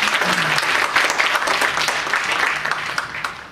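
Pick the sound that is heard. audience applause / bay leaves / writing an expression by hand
audience applause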